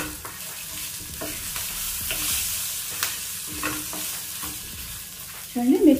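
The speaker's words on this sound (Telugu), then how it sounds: "మనకు మిరపకాయలు అనేది కొంచెం కలర్ వచ్చే వరకు వేయించుకోవాలి" Dried red chillies frying on a low flame, a soft steady sizzle with occasional scrapes of stirring and a brief louder clatter at the end, with no voices.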